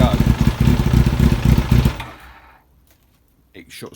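A Kawasaki ZX-7R motorcycle engine with a fault chugs loudly at idle, then its revs sag and it dies down to near silence before a brief sound at the end.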